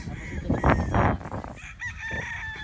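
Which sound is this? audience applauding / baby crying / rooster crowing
rooster crowing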